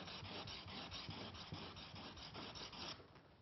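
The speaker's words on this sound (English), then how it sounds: "go to our diamond plate, and the block is going to hold that at a 90-degree angle, so we're polishing a nice square edge" Steel is rubbed back and forth on a diamond sharpening plate to polish a square edge, a close, continuous gritty scraping in rapid strokes that eases off near the end.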